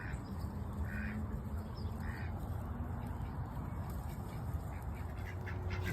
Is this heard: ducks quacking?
yes